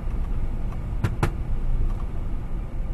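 A 1972 Chevy C-10 Cheyenne pickup rolls along with a steady low engine and road rumble from inside the cab, broken by two short sharp clicks or knocks near the middle.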